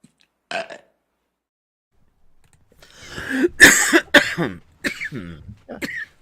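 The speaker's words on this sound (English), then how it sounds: "The burping was nice. I like the burping in this. More burps." A brief burp, then a longer series of loud, drawn-out belches with gurgling breaks, close up and without other sound.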